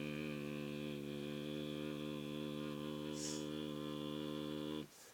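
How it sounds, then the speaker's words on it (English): A man hums as low as he can in his normal voice as a vocal warm-up for exhale screaming. The drone is steady and buzzy, holds for about five seconds, then stops abruptly. "I just go as low as I can with my normal voice and just hum for like 2 or 3 minutes"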